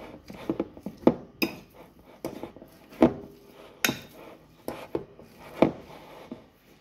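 Ricotta mixed with grated parmesan in a bowl, heard as scattered clinks and scrapes of a utensil against the bowl, irregular and fairly close, with quiet pauses between strokes.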